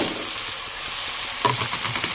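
Potatoes, onions and spices with chilli, tomato, ginger and garlic fry steadily in a pan, a constant hiss with a few soft scraping stirs near the end, no voices.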